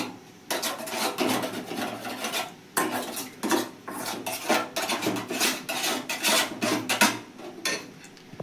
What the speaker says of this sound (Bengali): চামচ কর্নফ্লাওয়ার দিয়ে এই জলটা গুলে রেখে দিলাম